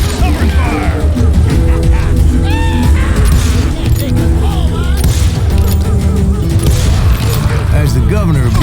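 Gunfire rattles through a Call of Juarez: Gunslinger firefight in the Old West, loud repeated shots and booms layered over orchestral music and shouting voices, dense and continuous throughout.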